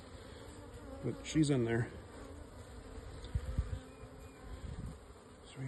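Honey bees buzzing around a shipped package and queen cage, a faint close droning hum with brief nearer buzzes, under a short spoken remark.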